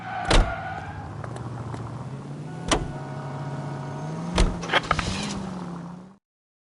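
A car in the video game L.A. Noire rumbles with a steady low engine drone, punctuated by three sharp thuds like doors closing, a mechanical whir near the start and a few clicks before the sound cuts off.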